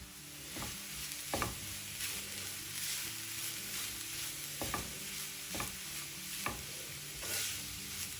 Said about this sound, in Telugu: తురుముకున్న కొబ్బరి వేసి వేయించుకోవాలి.